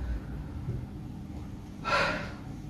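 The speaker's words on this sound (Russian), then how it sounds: "вдохните глубоко, вот так" During a neurological examination, a male patient takes one deep breath in: a single short, close inhale in a quiet room, with no speech.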